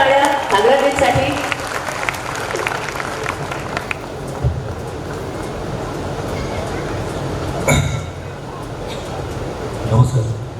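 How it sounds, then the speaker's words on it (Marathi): An audience at an award ceremony for the Babasaheb (Bhau) Akat memorial award claps for recipient Nagraj Manjule. Sustained crowd applause fills the hall throughout, with some voices mixed in. "जोरदार टाळ्या नागराजजींसाठी."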